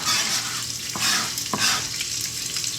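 Cooked pork sizzles steadily in a hot pan, a close, bright crackling hiss with a few soft scrapes as it is pushed and flipped, no voices.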